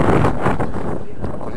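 Wind buffets an outdoor microphone at a classic vehicle show, producing a loud, steady low rumble with no clear voices.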